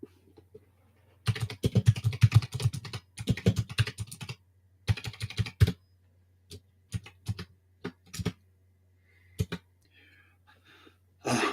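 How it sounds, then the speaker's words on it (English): Quick bursts of clattering computer keyboard typing come in uneven clusters with short pauses between them, close and crisp against a quiet background with a low steady hum. "I'm typing too fast."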